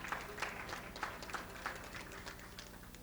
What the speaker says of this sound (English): I think we owe a big round of applause for Alethea Campbell, our chairperson of the